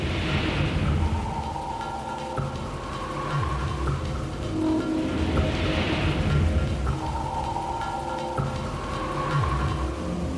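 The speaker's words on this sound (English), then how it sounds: "I'm sure we're approaching hurricane force winds." Hurricane-force winds from Hurricane Andrew roar outside a house: a loud, continuous broadband rush with heavy low rumble and slow swells in intensity, and no voices.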